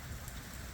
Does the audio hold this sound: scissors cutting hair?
no